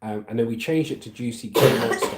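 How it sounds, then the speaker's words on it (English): Someone talks while someone coughs loudly in the background, with a burst of coughing near the end overlapping his speech. "if you can hear me between the coughs going on in the background"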